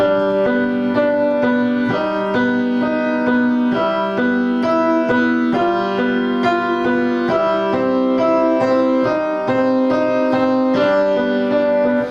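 A piano plays a guitar part from a song: a steady repeating pattern of chords in an even rhythm, continuous and clear throughout, with no voices.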